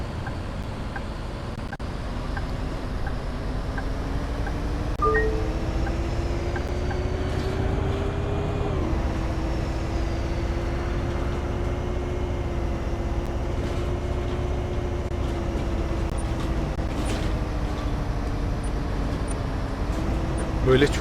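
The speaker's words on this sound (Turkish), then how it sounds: "yollarda otobüse gerçekten duyduğunuz sarsıntı sesleri falan var" Steady low road rumble of a bus interior in Bus Simulator 18, played on a Logitech G29 wheel, with faint rattling and a rising engine tone, continuous throughout with a voice talking over it.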